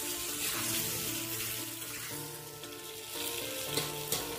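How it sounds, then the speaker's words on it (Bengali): Pointed gourd (potol) pieces fry in oil in a pan with a steady, close sizzle and occasional stirring scrapes, no voices. "পটলটা খুব ভালোভাবে ভেজে নেবেন"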